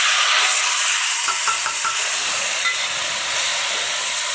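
Masala tipped onto browned onions in a pan for a tawa-fried rohu fish gravy, giving a loud, steady sizzling hiss throughout, with a few brief clinks partway through.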